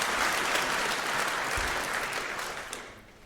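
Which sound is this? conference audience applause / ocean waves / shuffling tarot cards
conference audience applause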